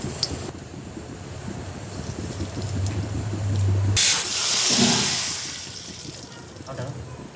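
A pressure cooker boiling potatoes on a home kitchen stove lets out a loud burst of hissing steam partway through, swelling suddenly over a steady background and then slowly tapering off.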